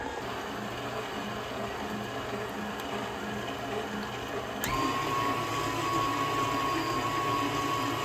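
Electric mixer running on high, whipping cream cheese filling for a pumpkin roll, a steady motor whine that jumps louder and higher about halfway as the speed is raised, then holds constant, no talk.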